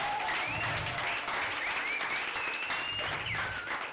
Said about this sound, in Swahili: Ongeza makofi mengine tena.